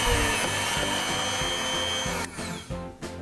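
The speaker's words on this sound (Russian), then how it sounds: "Сверлим пластину." Loud, steady whine of a BG-5158 benchtop drill press biting into a metal plate, with rhythmic low thumps and a brief easing near the end as the bit works through.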